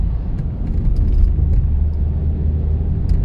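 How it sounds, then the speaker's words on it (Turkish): An Opel Zafira 1.6 (101 PS) taken fast into a curve, heard from inside as a steady low engine and road rumble, fairly loud and continuous with no talking. "Bakın arkadaşlar viraja giriyorum birazcık hızlı"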